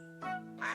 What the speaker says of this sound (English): And now there are ducks!